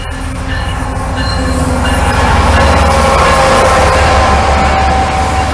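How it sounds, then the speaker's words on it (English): A train passes close by, a loud sustained roar of rail cars with squealing wheels and metallic whine building and holding for several seconds before cutting off. "Oh, there's a train."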